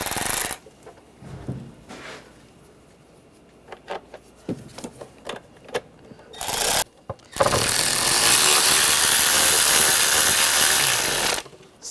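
Screws on a 2009-2013 BMW 328i xDrive 3.0L I6 starter being started and tightened, first with scattered close metallic clicks and taps, then a loud continuous whir of a power tool lasting several seconds.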